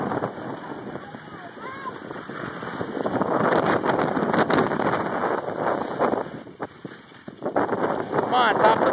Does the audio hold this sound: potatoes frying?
no